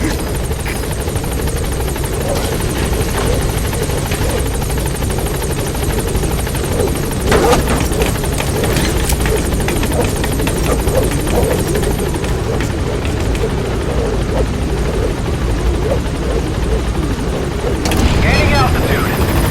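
The Pequod helicopter arriving in Metal Gear Solid V: The Phantom Pain makes a loud, continuous rotor drone with a throbbing chop that holds steady throughout, and voices are heard over it.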